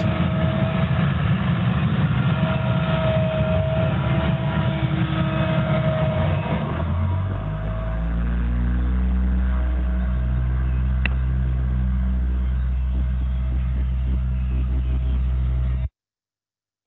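Asphalt paver and road rollers at work on a paving job, a loud steady engine rumble that drops after several seconds into a deep low idling drone before cutting off abruptly.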